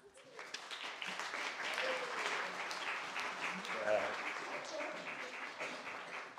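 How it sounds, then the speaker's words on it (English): An audience applauds to welcome a guest artist at a Native American arts center talk, a sustained wash of clapping with some voices and cheers mixed in. "let's have a round of applause and we'll welcome Joey"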